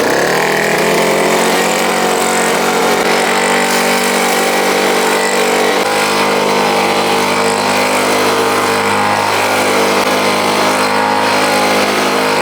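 A petrol leaf blower runs at full throttle, blowing debris off freshly poured concrete, a loud, close, continuous high-pitched engine whine and rushing air with slight shifts in pitch.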